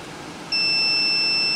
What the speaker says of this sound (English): You got a beep, that wire is good.